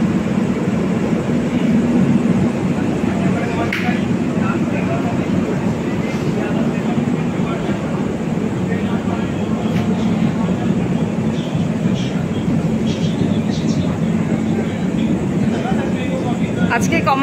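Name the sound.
Sealdah–New Jalpaiguri Humsafar Express train departing Sealdah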